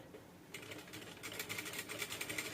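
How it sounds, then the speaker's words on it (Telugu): A sewing machine stitches blouse fabric in a tailoring session, quiet hum at first, then a steady rapid needle chatter from about half a second on that grows louder and rhythmic, with no voices. "ఇప్పుడు థ్రెడ్ ఎక్కించుకొని మిషన్ స్టిచ్ చేసి చూపిస్తాను చూడండి"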